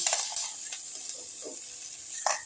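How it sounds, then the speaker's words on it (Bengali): Oats kachori filling stirred in a pan gives faint scraping and soft sizzle, with a few light clinks of the spoon against the metal. "আর একটু নেড়ে নিচ্ছি।"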